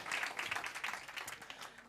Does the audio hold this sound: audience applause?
yes